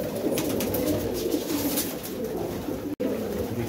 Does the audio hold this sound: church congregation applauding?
no